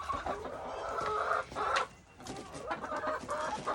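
Chickens in a backyard coop cluck and call repeatedly at moderate distance, a busy overlapping chatter with brief pauses, no talking.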